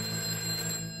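A telephone in the video game A Way Out rings steadily with a sustained electronic tone over a low background hum, constant in level throughout with no voices.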